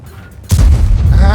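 A single heavy tank cannon shot in the video game World of Tanks, from the Object 703 II, a sudden loud boom followed by a sustained low rumble.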